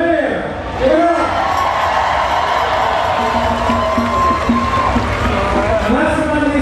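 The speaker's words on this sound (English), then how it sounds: "let's give one round of applause for the mayor" Outdoor crowd at a San Francisco Gay Pride rally cheers and applauds for the mayor, a loud, sustained roar of voices and whoops rising after a brief lull and continuing throughout.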